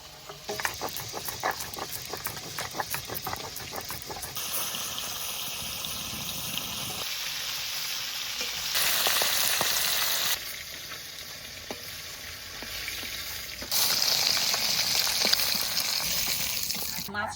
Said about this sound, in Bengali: মাছ হালকা করে ভেজে নিয়েছি, এবার তুলে নেবো।